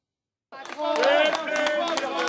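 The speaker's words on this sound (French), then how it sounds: "Des applaudissements narquois," Scattered, mocking applause and jeers from steel factory workers seeing off their managers after failed negotiations, claps rising quickly into a steady crowd din with voices mixed in.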